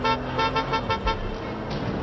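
A car horn in the Watch Dogs: Legion video game honks in a rhythm of about six short, loud toots in quick succession, then one more after a pause, over steady engine and traffic noise.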